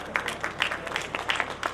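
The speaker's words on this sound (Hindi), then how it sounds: "अपने हाथ को गर्म करने के लिए आप तालियां बजा सकते हैं।" Audience at a kavi sammelan (poetry gathering) opening ceremony claps softly in a quick, uneven patter of handclaps, faint and somewhat distant throughout.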